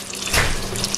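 Hot cooked candy syrup is poured into egg whites, giving a steady rushing, splashing stream that swells slightly midway and carries on loudly throughout.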